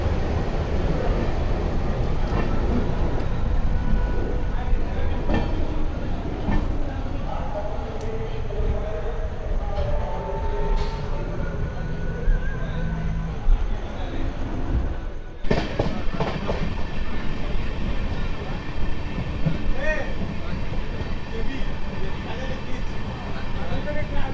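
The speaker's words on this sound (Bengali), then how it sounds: "আমাদের ট্রেনটা এইখান থেকে ডানকুনি হয়ে কড লাইন ধরে বর্ধমানের ওপর থেকে পৌঁছে যাবে প্রথম হল্ট দুর্গাপুরে" The Amrit Bharat Express runs on the tracks from Kolkata toward Varanasi with a steady loud rumble and rattle of the carriages. A brief sharp change in the noise breaks the run partway through.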